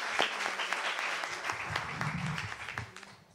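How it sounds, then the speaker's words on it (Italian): Brief round of clapping from an audience at a live televised show, moderately close, with a scattered patter of hands that thins out toward the end. "un bel applauso"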